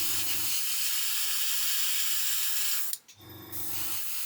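Airbrush or spray hissing onto parts of an Airfix 1/48 Sea King helicopter model, a steady close hiss that runs for about three seconds, cuts out briefly, then resumes.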